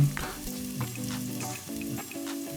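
Ginger frying in a pan with a steady, close sizzle, stirred now and then with soft scraping strokes, and no voices.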